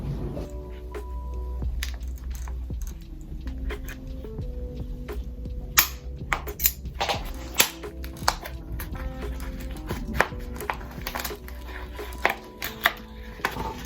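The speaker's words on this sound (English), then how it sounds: "I think it might be better if I just cut the pot off because the roots are so entangled on the bottom." Scissors or shears cutting away a plastic plant pot from a root-bound plant, giving a run of small snips, cracks and crinkling close up over a low steady background hum, with sharper clicks between about six and thirteen seconds.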